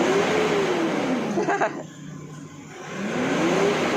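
A Nissan Navara engine with low power and hard starting revs up and holds high, then dips and climbs again. Someone speaks briefly over the engine noise, close up.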